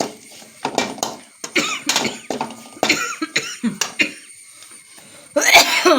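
Someone coughs repeatedly from chili fumes while cooking liver curry at a home stove, with a series of close, loud, uneven coughs and throat clearing, ending in a burst of hissing noise.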